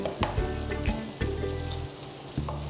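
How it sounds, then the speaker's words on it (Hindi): Chopped green chilli, ginger and garlic frying with onions in a pan for a dal palak dish, a steady close sizzle with brief louder bursts as the pieces are stirred, no voices. "अब मैं इसमें डालूँगा बारीक कटी हरी मिर्च, बारीक कटा अदरक, बारीक कटा लहसुन, इनको भी हम प्याज के साथ भूनेंगे।"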